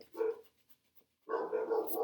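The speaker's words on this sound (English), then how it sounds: "silly dogs" Dogs bark in two short bursts separated by a brief pause, fairly close and moderately loud, with no talk over them.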